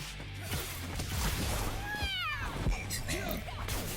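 A cat character lets out a short, rising-and-falling meow in the middle of a fighting video game match, layered over busy game music, hit effects and a steady low background rumble.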